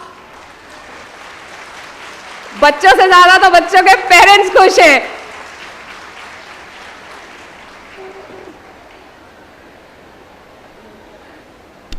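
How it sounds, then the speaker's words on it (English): Parents seated in a pandal at a school orientation day break into a loud burst of clapping and cheering lasting a couple of seconds, followed by a murmuring crowd and a voice speaking. "Give me a big round of applause."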